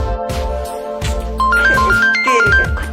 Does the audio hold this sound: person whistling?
no